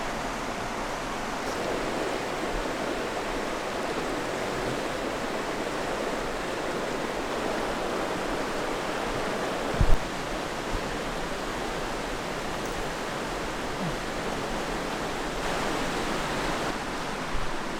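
South Boulder Creek rushes steadily past in a broad, unbroken wash of flowing water, close and loud throughout, with only a faint knock or two and no voices.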